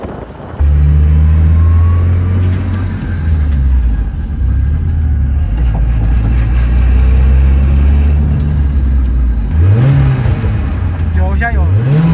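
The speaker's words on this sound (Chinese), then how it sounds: "你可以听到那个涡轮声" A Nissan Silvia S14 with a turbo engine pulls hard through second and third gear, its loud engine note climbing and dropping with each shift and then revving up sharply near the end, with occupants talking inside the car.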